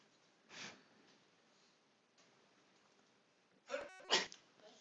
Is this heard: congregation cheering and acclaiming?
no